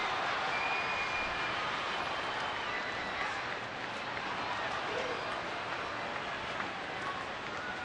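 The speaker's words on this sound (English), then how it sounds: "In front of a big, lively Tuesday night crowd here in Arlington" A large, lively Tuesday-night baseball stadium crowd in Arlington, about 30,000 fans, gives a steady, broad roar and murmur of noise throughout, fairly distant and continuous with no distinct peaks.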